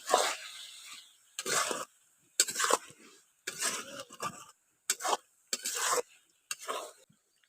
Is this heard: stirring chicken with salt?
yes